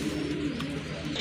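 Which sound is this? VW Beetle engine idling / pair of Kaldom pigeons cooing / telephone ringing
pair of Kaldom pigeons cooing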